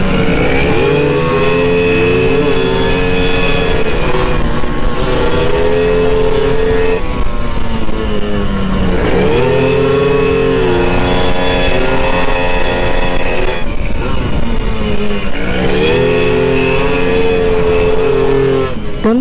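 Honda Beat scooter engine, smoking on engine braking, revved hard in repeated loud, close bursts that climb and fall in pitch, filling the whole stretch with no talk.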